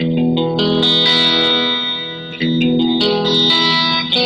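A distorted electric guitar with a mildly crunchy, high-gain tone plays sustained chords, with a brief dip in the middle before ringing on again.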